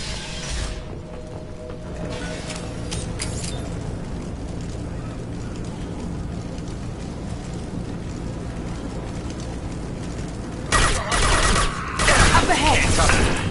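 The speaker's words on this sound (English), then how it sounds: "The Blue Suns and Vorcha shooting anything that moves." Gunfire crackles in a Mass Effect 2 firefight with Blue Suns mercenaries and Vorcha, bursts of shots and mechanical clatter rising louder near the end over a steady background.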